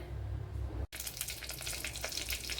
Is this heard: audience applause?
no